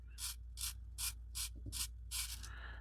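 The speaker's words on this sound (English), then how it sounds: "I'm going to take my sandpaper here and I'm just going to cup it around the last 1/4 inch of shaft" Sandpaper cupped around the end of an arrow shaft is twisted back and forth, giving six evenly spaced, close scraping rasps.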